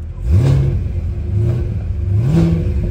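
A Cadillac CT5-V Blackwing's 6.3-liter supercharged V8 revs up repeatedly, its deep growl rising in pitch and dropping back, loud and close.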